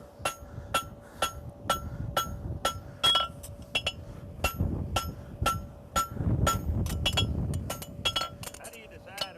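Hammer blows on new steel bar stock being forged into a horseshoe at a horseshoeing clinic, ringing close metallic strikes in a steady rapid rhythm with brief pauses, with a person talking underneath.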